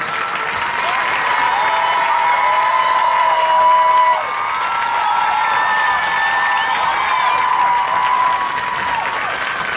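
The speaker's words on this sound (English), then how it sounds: "have another big round of applause for all the bands" A large crowd applauds high school marching bands steadily and loudly, with some cheering and whistles mixed into the sustained clapping.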